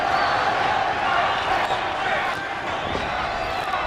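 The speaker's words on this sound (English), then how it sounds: "Crowd again chanting for Jorge Paez." A boxing arena crowd from a 1991 bout involving Jorge Paez keeps up a dense, continuous roar and chant that sounds steady and fairly loud, with rhythmic voices blending throughout.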